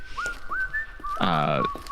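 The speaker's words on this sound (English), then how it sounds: "the smaller one is whistling as they just march along" A person whistles a short, bright tune with quick rising notes, fairly close, ending in a sustained warbling phrase, with faint background noise.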